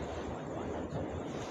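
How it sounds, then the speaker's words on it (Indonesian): Ocean waves surge in a continuous heavy roar of surf mixed with gusting wind noise, loud and close, with no voices over it. "Jadi saking besarnya ombak sampai naik."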